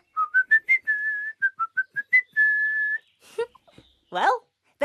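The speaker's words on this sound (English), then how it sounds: "Whistle like a bristly whistler." A person whistles a run of short bright notes and one long held tone, then a brief burst of voice and laughter-like sounds follows near the end.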